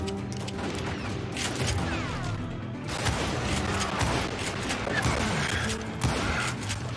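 Gunfire in the Western shooter Call of Juarez Gunslinger: a sustained fusillade of shots with mechanical clatter, steady and loud from start to finish.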